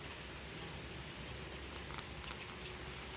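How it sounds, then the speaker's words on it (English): Rain falls steadily outside on a fall day, a soft, even hiss heard from indoors at low volume with no talk. "It is raining."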